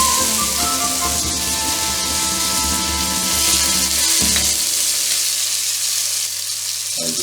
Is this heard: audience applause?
no